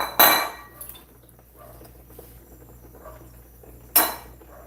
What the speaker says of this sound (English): I think I'm just gonna use this large bowl here